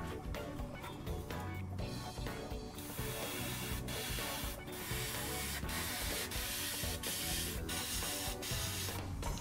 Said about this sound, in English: my airbrush is blocked